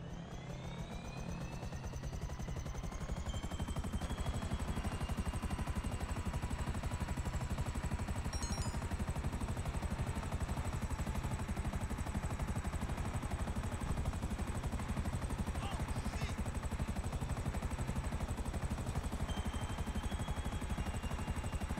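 A helicopter in the video game Grand Theft Auto V drones with a steady, loud rotor-and-engine roar that swells in over the first few seconds, then holds constant and close for the rest of the stretch, with no voices.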